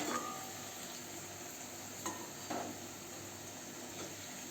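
Vadas frying in hot oil, a steady crackling sizzle with a few sharper pops and light utensil touches, close and moderately quiet, with no talking.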